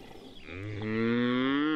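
Highland cattle grazing on Wicken Fen's open wetland give a single long moo. It starts low and swells into a loud, rising, drawn-out bellow that ends abruptly.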